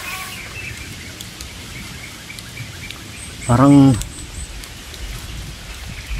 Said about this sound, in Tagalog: Ulan pa kasi.